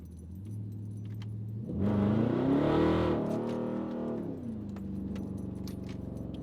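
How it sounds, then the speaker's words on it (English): A 2009 Dodge Charger with a non-V6 engine revs from a low idle into a louder, rising roar for a couple of seconds, then settles back to a steady idle. "because I like how my car sounds"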